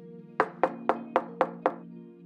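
Knocking on a door in a cartoon, six evenly spaced hollow knocks in quick succession over a soft sustained musical tone, close and clear with no speech.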